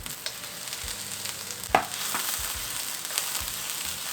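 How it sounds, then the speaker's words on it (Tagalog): Garlic and onions sauté in olive oil in a seasoned wok, a steady close sizzle with stirring scrapes and a sharp utensil clatter partway through. "Saute the garlic and onions."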